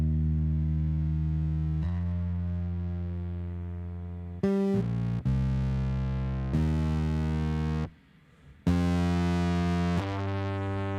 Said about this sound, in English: I also have my bass growing in distortion.